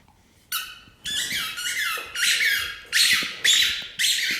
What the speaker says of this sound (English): chew on his new squeaky ball